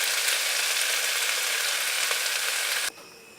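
Okra (bhindi) with green chilli frying in a pan gives a loud, steady sizzle that runs without a break for about three seconds and then cuts off sharply into near quiet.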